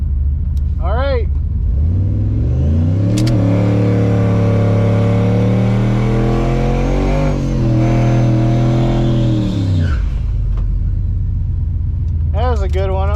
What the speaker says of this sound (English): I'm doing a lot better burnouts.